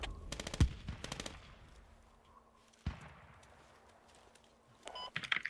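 Gunfire in the video game Squad: a quick close burst of automatic fire at the start, a single sharp shot mid-way, then another rattling burst at the end, quieter background between.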